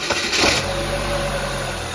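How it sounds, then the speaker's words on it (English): A 2004 Saab 9-3 Arc engine catches after a brief cranking surge, then settles into a steady, loud, close idle hum with a constant drone. "Go ahead, start it up one more time, Jake."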